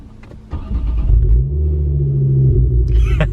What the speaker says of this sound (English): we are going to give you guys a little start up